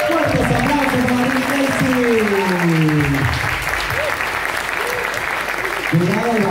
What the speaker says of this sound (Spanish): ¡Fuertes aplausos para